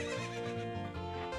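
A horse neighs in a video game, a loud, close whinny with a wavering pitch that fills the short moment.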